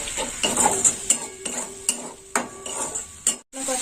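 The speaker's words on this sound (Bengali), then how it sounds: "টমেটো বাটা দিয়ে ভালো করে কষে নেবো।" Tomato paste fried with red chili powder and spices in an oily pan, a soft sizzle under repeated scraping and clinking strokes of a spoon against the pan.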